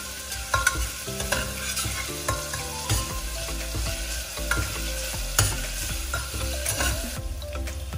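Chopped onions with salt sauté in a pan for a green gram dal gravy, giving a continuous close sizzle with repeated scraping and knocking stirs of a spoon throughout, no voices.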